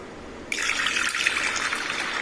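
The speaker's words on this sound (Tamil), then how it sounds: "இதில் வந்து நம்ம ஒரு அரை லிட்டர் அளவுக்கு தண்ணி கலந்துக்கலாம் சேர்த்துக்கிறலாம்" Water poured into a pot of washed lentils being prepared for rasam, a sudden bright splashing pour that starts after a brief quiet moment and continues steadily, close and fairly loud.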